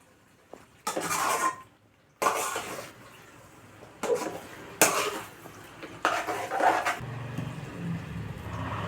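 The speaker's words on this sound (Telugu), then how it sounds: "బాగా అనేది మొత్తం అనేది కలిసేటట్టుగా కలిపేసుకున్నామండి" A spoon stirs chilli powder into an eggplant and potato masala curry in a pan, giving several bursts of scraping and clinking against the metal, separated by quieter gaps.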